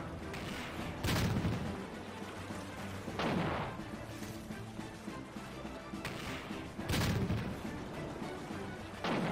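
Warships firing their guns in the naval battle game Warship Girls R, several heavy booming salvos spaced a few seconds apart over a steady rumbling battle backdrop, moderately loud, with no talk.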